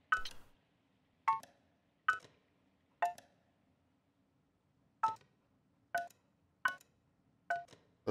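Telephone dialing tones in the game Kentucky Route Zero, eight short separate beeps at uneven intervals, clear and close against near silence.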